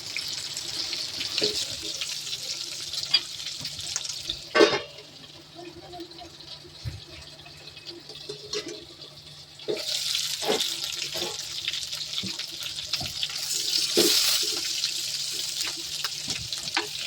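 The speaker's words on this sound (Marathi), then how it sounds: "मग पाणी टाकूया त्याच्यात." Water is poured into a pan of stuffed brinjal frying in oil, giving bursts of hissing and rushing liquid that come and go, with clinks and a voice talking in between.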